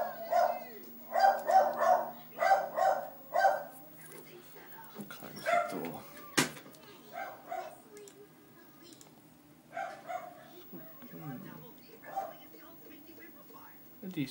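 A pet dog lets out a rapid run of sharp barks for the first few seconds, close and clear. The barking then fades into scattered quieter yelps while a person talks.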